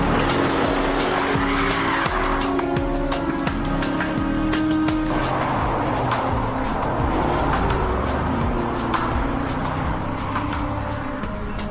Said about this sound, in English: It's definitely speeding.